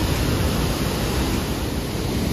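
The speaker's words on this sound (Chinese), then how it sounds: "瀑布的声音非常的大" A roaring waterfall at the Xiao Wulai scenic area in Taoyuan gives off a loud, steady, unbroken rush of falling water. It runs continuously with no voices.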